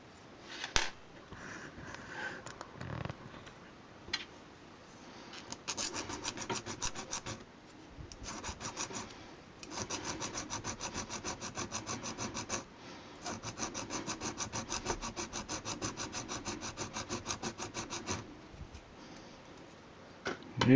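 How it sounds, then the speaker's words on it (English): A file scrapes down a small plastic lip on a custom steering part for a TT-01 RC car, rhythmic rasping strokes in bursts, close and fairly loud, with brief pauses and no speech. "Just take that down with a file."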